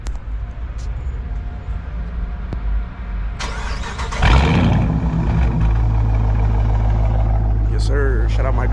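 Dodge Charger RT engine starting, the starter cranking into a sudden loud catch and then a deep, steady idle rumble up close.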